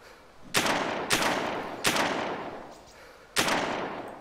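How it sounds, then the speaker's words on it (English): Four sharp, loud gunshots from DayZ gameplay, spaced irregularly across a few seconds, each with a quick decaying tail and no talk over them. "Oh no, there's another person shooting."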